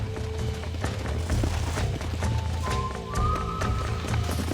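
Horse hooves pound steadily in Red Dead Redemption, a continuous clip-clop of a running horse with layered game sounds and a faint tonal whine over the top.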